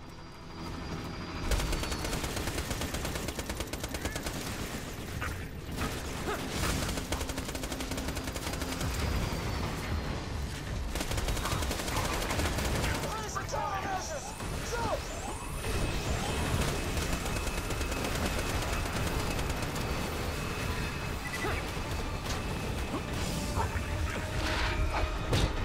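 Rapid auto cannon fire in Borderlands 2, dense sustained bursts of loud gunfire with crashes and explosions layered over game action and chaotic effects.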